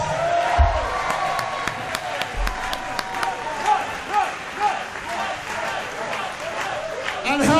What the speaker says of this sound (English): how about a round of applause for the returning Jimmy Nuts?